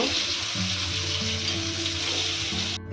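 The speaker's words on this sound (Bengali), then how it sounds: "আলুটা একটু ভেজে নেব" Potatoes fry in a hot kadai after fish for a sholi fish curry, giving a steady close sizzle with broadband crackle throughout and a low hum beneath, cutting off abruptly at the end.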